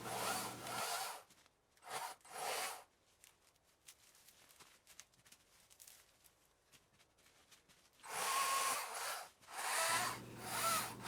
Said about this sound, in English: This Ego saw has a 56-volt lithium battery powering an 18-inch bar with a 5/32-inch chain.